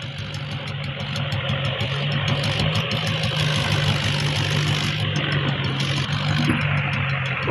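A farm tractor engine idles nearby, a steady, loud low rumble that holds evenly throughout with no voices over it.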